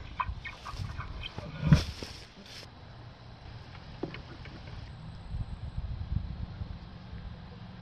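A hen caught inside a backyard coop behind a lowered door flap clucks repeatedly, with one loud, sharp squawk partway through, over a steady outdoor background hiss.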